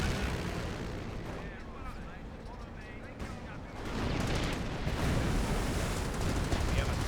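Tank cannons and artillery rumble and crack in a Company of Heroes battle, with dense overlapping booms that swell louder midway, under a commentator's steady talk.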